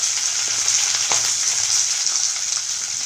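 Onion, cumin, mustard seeds and curry leaves fry in hot oil for upma with a steady, bright sizzle, a close continuous hiss and a few small crackles, no voices.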